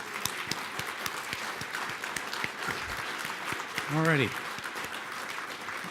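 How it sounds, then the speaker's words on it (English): Scattered applause from an audience at a city leagues' annual conference awards session, fairly quiet and sparse claps, with someone briefly speaking over it. "if you could join me in a round of applause for the host of this great event"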